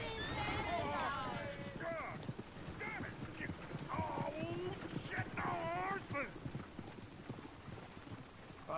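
Hooves clip-clop in a steady rhythm in Red Dead Redemption 2 while voices talk over them and a horse whinnies faintly in the background.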